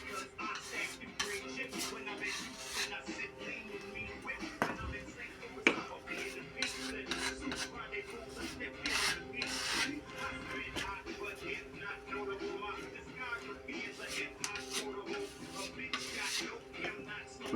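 A plastering float spreads wall putty across a wall to fill holes, giving steady scraping and rubbing strokes close by, with faint clinks and a voice talking quietly underneath.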